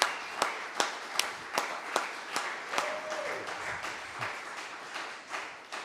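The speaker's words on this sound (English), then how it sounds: "how about another round of applause for Mr. Clark?" An audience claps, with sharp regular claps standing out over a steady wash of applause, fairly close.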